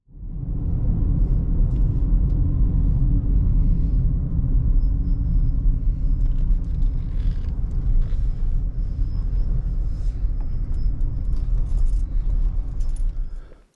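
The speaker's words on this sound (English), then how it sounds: "And then it's just a 4 or 5 minute drive down to where you can park at the park." A car rumbles along a road on a short drive to a park near White River Falls in the Pacific Northwest, with a steady, loud low engine and road drone and faint rattles, no talk.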